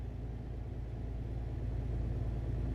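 Deep, steady rumble of a truck engine fitted with open-pipe exhausts in Euro Truck Simulator 2, a low idling drone that holds evenly at moderate level with no voices.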